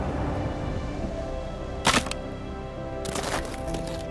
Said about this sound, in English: Oh, is that the locking door sound?